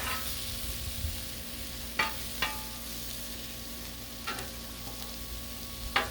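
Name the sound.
meat frying on a Blackstone griddle for cheesesteak tortas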